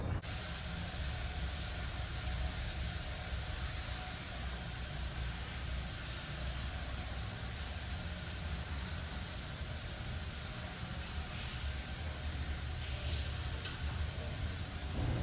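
Steady hissing steam fills a hotel locker room steam room at the Marriott Reforma in Mexico City, a soft continuous whoosh with faint background hum and no voices.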